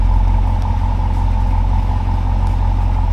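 Steady idle from a car fitted with a Valvetronic Designs exhaust, valves open, giving a loud, constant low rumble with a hum that holds level throughout and no revving.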